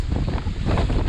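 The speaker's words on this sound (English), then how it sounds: "There's a big gust" A strong gust of wind roars across the microphone on a sailing boat, a loud, steady rumbling rush with water noise underneath.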